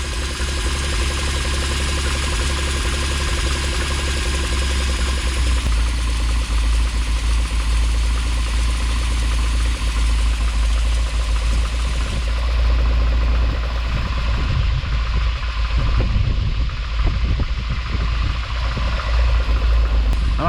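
A Triumph TR7 engine idles at a low, even tick-over of about 650 to 700 rpm, producing a steady, continuous rumble with no other sounds.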